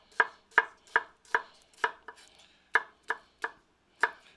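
A knife chops a peeled vegetable into julienne on a cutting board, about ten crisp, evenly spaced knocks close up with no talk.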